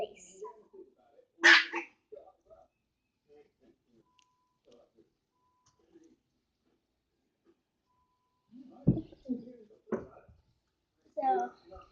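Puppies bark and whimper indoors in short, scattered yips and cries separated by long quiet gaps, with a person talking between them.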